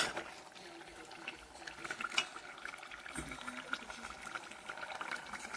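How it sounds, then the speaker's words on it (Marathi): Hot water is poured into a pot of cooking chicken with turmeric and salt, making a faint, continuous trickle and bubbling with small clinks, close by and without speech. "आता आपण ह्याच्यामध्ये पाणी ओतायचं।"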